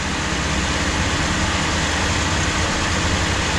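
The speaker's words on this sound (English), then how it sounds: "Engine sounds healthy." A 1962 Chrysler Imperial Crown Convertible engine idles in a steady, continuous rumble with a low, even drone and broadband hiss, holding constant throughout with no voices.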